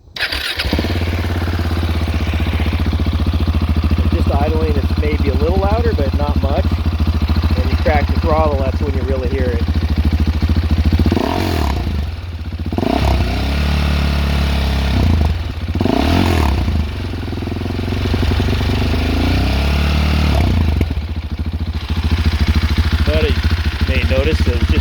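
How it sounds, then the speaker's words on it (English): A Husqvarna Svartpilen 701 motorcycle with its catalytic converter removed idles steadily and loudly up close, a low rumble with a few revs, while someone talks over it. "Just idling, it's maybe a little louder"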